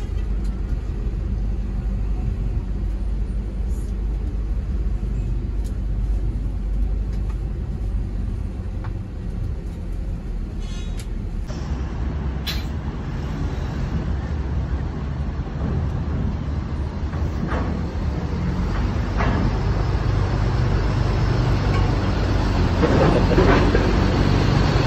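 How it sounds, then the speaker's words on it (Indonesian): A bus rolls aboard a ferry ship, its steady low engine rumble and hull noise filling the space with a constant, close drone and some clanking shifts partway through. "Bus mulai memasuki kapal"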